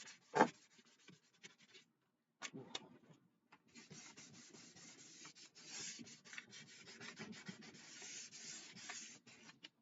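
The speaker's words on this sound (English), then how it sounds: "All I'm using to do this is just a bit of 100 grit sandpaper and just going back and forth over it." Hand sanding with 100 grit sandpaper, worked back and forth in a steady rubbing rasp; a sharp knock opens, then a short quiet gap before continuous close scraping strokes fill the rest.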